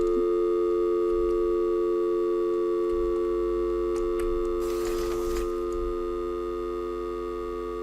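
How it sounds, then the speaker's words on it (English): Steady telephone dial tone looping as background music in a Unity game build, a continuous sustained tone running alone throughout, with a short burst of broadband noise near the middle and a slight pitch wobble. "We're going to be listening to that dial tone"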